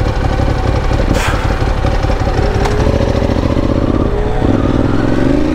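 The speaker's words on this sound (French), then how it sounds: "le scooter qui se met devant toi, qui va accélérer à 45 max" A scooter limited to 45 km/h accelerating ahead in French road traffic, a steady buzzing engine note that rises in pitch, heard close over continuous engine and road rumble.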